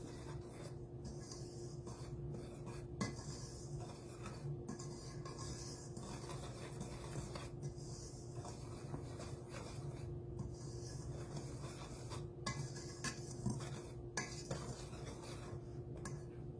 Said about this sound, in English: Go ahead and whisk all of that up.